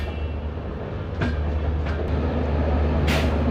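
Coromandel Express train running at speed while overtaking another train, a steady loud low rumble of wheels and carriages with brief higher screeches and a passing whoosh near the end, no talking.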